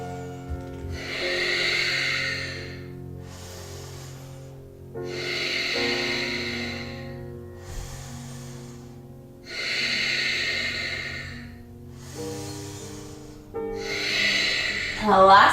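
Deep, audible breaths during Ashtanga yoga practice rise and fall in a slow, even rhythm, about four long, close breaths each lasting a couple of seconds, with some speech also present.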